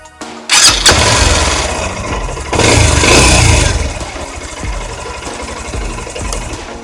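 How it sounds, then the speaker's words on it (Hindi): A Honda X Blade BS6 motorcycle engine fires up with a loud burst and settles into a steady idle, briefly rising once in a blip of revs before dropping back to an even, close-up idle. "आप स्टार्ट करने के टाइम पे इंजन का साउंड सुन लें आप"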